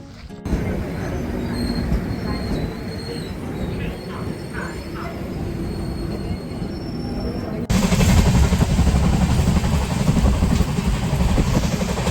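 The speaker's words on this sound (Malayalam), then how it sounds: "ഇതാണ് ബൈന്ദൂർ റെയിൽവേ സ്റ്റേഷൻ. സാധാരണ ഒരു റെയിൽവേ സ്റ്റേഷൻ, ഒരു കുഞ്ഞു റെയിൽവേ സ്റ്റേഷൻ" A train at the small Byndoor railway station platform, with continuous rumbling wheels and faint squeals, growing louder and nearer partway through as the train passes close by.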